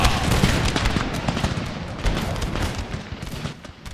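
Dense musket and artillery volleys in an Empire: Total War battle rattle and boom continuously, a thick roll of overlapping shots and low blasts that thins slightly toward the end.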